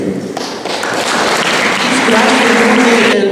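Sustained applause from an audience at a school year-end ceremony, dense and steady clapping that fills the whole stretch without pause, fairly close and loud.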